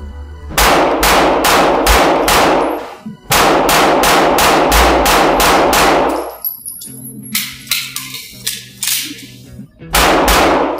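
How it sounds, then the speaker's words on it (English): Pistol shots from a Polymer80 frame-kit handgun ring out loud and close at an outdoor range, fired in rapid strings of sharp cracks with brief pauses between groups and clanking in the gaps. "I'll fire a few shots now."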